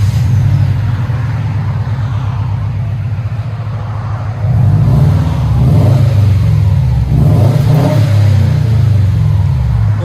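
A 2008 Subaru WRX turbo with resonators and silencers removed, its engine droning loudly and rising in revs partway through, a raspy, booming exhaust close to the listener.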